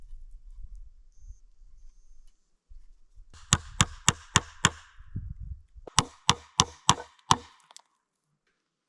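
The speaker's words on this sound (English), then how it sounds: "I'm nailing the rest on the ground so it doesn't nail into the workbench" A hammer drives nails into leftover wooden boards for a cabin door, with two quick bursts of sharp, evenly spaced close blows separated by a short pause and quiet rustling before them.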